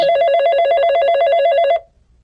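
A telephone rings with a loud, steady electronic warble for nearly two seconds, then stops abruptly before a call is answered, with no talking over it.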